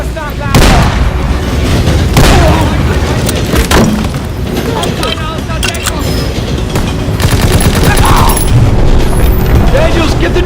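Chaotic battle sounds from Call of Duty WWII, with an explosion thud from a grenade amid dense gunfire and booms that run loud throughout, and shouted voices over the din.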